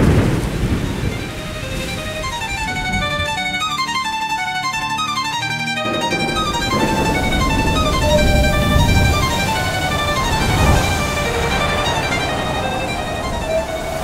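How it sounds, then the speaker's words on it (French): Steady heavy rain with deep rolling thunder rumbling beneath it, loud and continuous, with music-like tonal patterns running over the storm. "L'orage grondait toujours."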